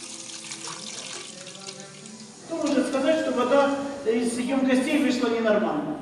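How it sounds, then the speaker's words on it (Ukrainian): Muddy water runs from a kitchen tap in Pervomaisk, a steady splashing gush that grows louder midway, with a voice speaking over it. "З крану замість води тече багнюка."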